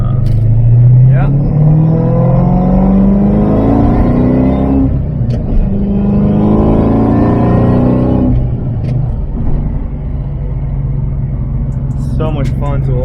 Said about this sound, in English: so much fun to always hear a little bit of that supercharger whine